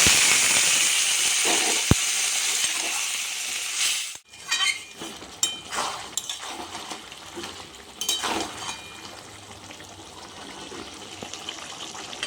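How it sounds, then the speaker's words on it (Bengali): Water is poured into a pan of vegetables and fish head for a Bengali ghonto, giving a brief hiss and splash, followed by clinking utensils and stirring sounds close by. "দেন সামান্য পরিমাণ জল দিয়ে দিলাম"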